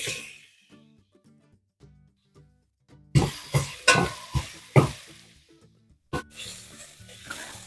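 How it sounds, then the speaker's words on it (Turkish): Chopped leeks hit hot butter and olive oil in a pan, bursting into loud sizzling with repeated stirring clatters after a quiet, faintly humming start, with a short gap partway through. "Öncelikle pırasaları bir güzel kavuruyoruz."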